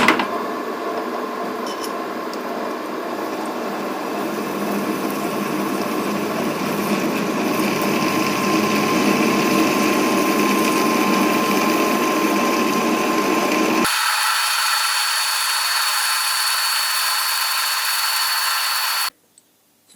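A power drill bores a 17 mm hole into a prototype holder with a steady, close whine that holds for about fourteen seconds before the pitch shifts as the drill slows, then stops abruptly.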